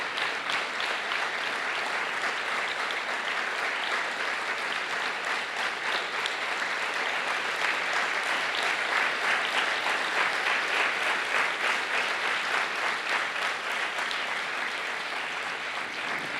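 A conference crowd gives long, steady, loud applause for the catering team, dense clapping rolling on evenly with no pauses.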